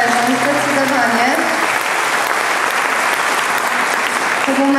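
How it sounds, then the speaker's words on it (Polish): Audience at a city council anniversary gala session in Olsztyn applauds steadily and loudly, dense clapping filling the hall while a few voices murmur underneath. "brawa im się należą, zdecydowanie."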